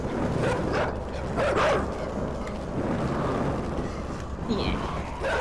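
Wolves in the video game Inside give repeated barks and yips at moderate loudness over a dense, rumbling game soundscape.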